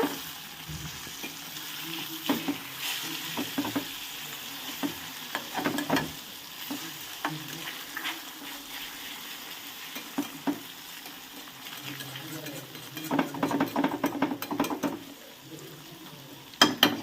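Eggs fry gently over a low flame, a soft steady sizzle broken by repeated scrapes and clinks of a spatula against the pan as they are flipped to both sides, busier toward the end.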